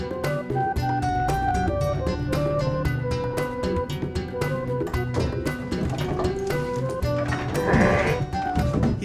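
A flock of Priangan sheep at their pen keeps up a dense, overlapping chorus of bleats at moderate distance, continuous for the full stretch with no talk.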